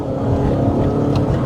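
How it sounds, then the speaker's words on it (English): A car exhaust fitted with an aftermarket muffler bought from Amazon, on a car pitched as a Toyota Celica successor, gives a steady, loud low rumble with a slight rise in revs, heard close up with no one talking. "So, an Amazon muffler, but it doesn't sound too bad."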